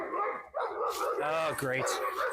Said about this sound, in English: these dogs are always fighting with the neighbor's dogs